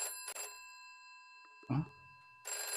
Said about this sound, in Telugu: మళ్ళీ కాల్ చేస్తుంది.